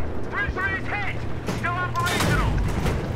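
Gunfire and explosions in the video game Battlefield 3 during a tank fight, a few sharp shots and bursts heard over rumbling engine noise, with whistling, warbling game sounds and a player's voice.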